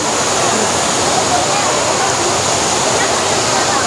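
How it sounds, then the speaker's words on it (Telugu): Lakkom waterfall in Munnar, Kerala, sends a steady, loud rush of falling water, a dense unbroken roar heard from close by with no pauses. "వాటర్ ఫాల్ చూడండి ఎలా పడుతుందో."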